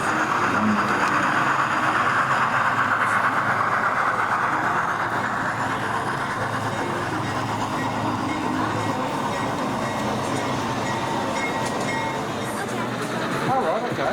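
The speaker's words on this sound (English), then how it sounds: "The train will tiptoe along at runway at 12 miles per hour until it reaches SF." A model railway train runs on a layout at a busy exhibition. A continuous mechanical whir and rumble sits under a constant hall murmur with background voices, and the level stays even throughout.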